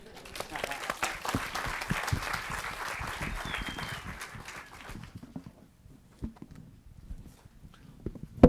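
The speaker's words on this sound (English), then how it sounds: "Let's give another round of applause for the panelists" Audience applause for panelists at a public impact day event: steady, fairly distant clapping that fades out after about five seconds, leaving a few scattered claps and room noise.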